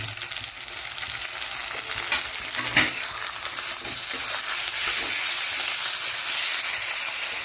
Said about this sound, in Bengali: এবার এগুলোকে আমরা ভালো করে ভেজে নেব।